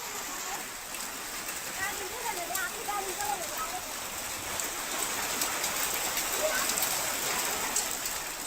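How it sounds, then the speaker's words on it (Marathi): Heavy rain with hail pouring down continuously, a dense hiss with pattering impacts, while faint voices talk underneath. "गारपिटीचा पाऊस पाहायला मिळाला"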